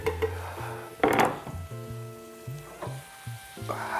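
Garlic and parsley hitting hot fat in a pan, a bright sizzle that flares up with stirring and scraping, mingled with light clinks of cookware and no talk.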